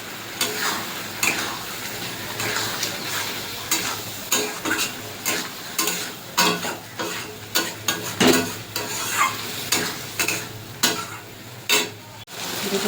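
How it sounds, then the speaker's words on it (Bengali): Prawns stir-fried with spices in a pan for a mustard-poppy seed prawn curry, with steady sizzling and repeated scraping stirs of the spatula against the pan, close and continuous. "মশলার সাথে কষিয়ে নেবো ভালো করে।"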